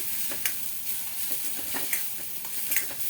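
Spice masala frying in oil for a drumstick curry is stirred in a pan, giving a continuous close sizzle broken by soft, irregular scraping strokes.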